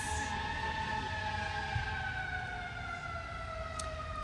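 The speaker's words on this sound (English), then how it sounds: "Cue sirens." A sustained siren wails steadily for several seconds, its tones gliding slowly downward, fairly loud against a constant background rumble.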